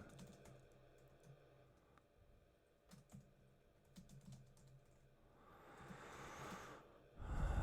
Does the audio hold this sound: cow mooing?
no